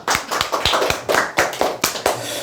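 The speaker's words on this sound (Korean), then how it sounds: "박수 한번 치시죠." A seminar audience claps hands at a sales training session, with sharp, sparse individual claps in an uneven rhythm, fairly close and loud, and no one talking.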